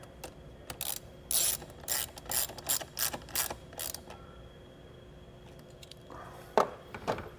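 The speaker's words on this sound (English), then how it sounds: "Now we can tighten that down." A ratchet clicks in a quick run of strokes as it tightens a nut during a vehicle wiring harness install on a Mazda. After a pause, a few louder mechanical clunks follow.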